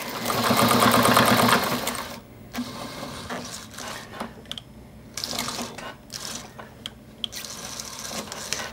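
A sewing machine whirs steadily through a short run of stitches on an archery shooting tab, then stops, followed by softer clicks and handling noises nearby.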